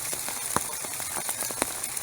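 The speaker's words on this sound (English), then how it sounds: "Right now it's not raining very hard." Light rain falling outdoors in the November wet, a fine steady patter with scattered sharper drops ticking close by, soft and continuous throughout.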